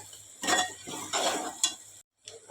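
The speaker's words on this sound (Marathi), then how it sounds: "कांदा सुद्धा छान आपण लाल परतून घेऊयात" Onions frying in a pan and stirred with a spoon, giving bursts of scraping and clinking over a faint sizzle, close and moderately loud, with a brief silent gap near the end.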